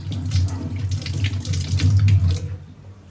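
Tap water splashing steadily into a sink while a food storage container is rinsed, a close, continuous gush with faint clatter of handling, cutting off just before the end.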